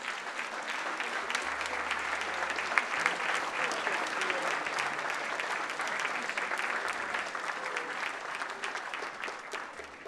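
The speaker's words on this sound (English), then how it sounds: "I want you all to please stand and give Sister Rita Marley a big round of applause." An awards ceremony audience stands and applauds Sister Rita Marley, a full crowd clapping steadily and loudly for about ten seconds with faint voices beneath.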